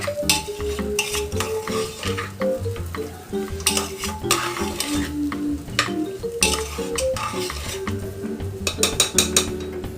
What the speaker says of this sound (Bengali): দিয়ে একবার নাড়ছি